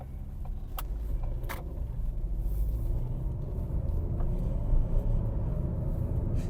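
Ford Fiesta with a one-litre turbocharged engine accelerating smoothly, heard from inside as a steady low engine rumble and road noise rising slightly over several seconds, with a couple of faint clicks and no talk.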